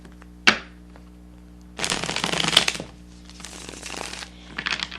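A sharp tap, then a tarot deck being shuffled in a couple of short riffling bursts, close up and quiet.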